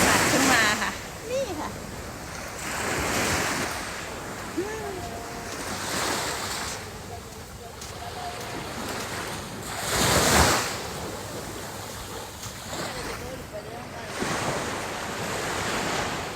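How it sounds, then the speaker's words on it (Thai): Ocean waves at Pemba, Mozambique, roll and break on the beach at sunset in a steady, loud surge, with wind buffeting the microphone and someone talking at times over the surf. "น้ำทะเลเลย"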